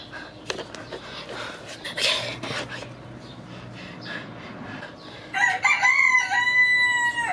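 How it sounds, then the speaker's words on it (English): A rooster crows nearby in a loud, drawn-out call near the end, after a stretch of rustling and scattered movement sounds. "That rooster's gonna get me killed."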